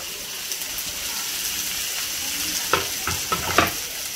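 Onions sautéing over a gas flame in a pan for a cashew gravy, a dense continuous close sizzle with scraping stirs and a few sharper clicks near the end.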